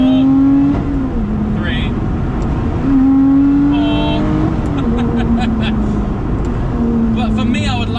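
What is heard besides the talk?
Lotus Exige 410 engine revving, exhaust valves opening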